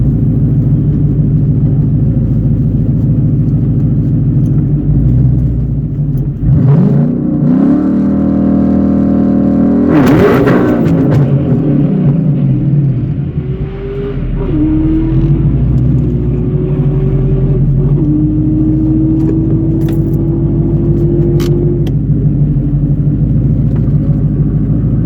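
A Ford Coyote-powered drag car runs on a drag strip in Georgia, engine loud and close as it revs up, roars hard with a surge around the middle, then drones on with rising shifts through about twenty-five seconds.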